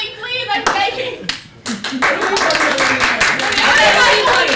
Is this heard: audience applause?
yes